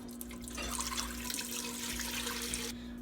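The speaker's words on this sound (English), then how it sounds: "so I'm gonna add water" Water runs from a tap into a cooking pot of broth on a stove, a quiet, steady splashing stream that cuts off abruptly near the end, with no voice over it.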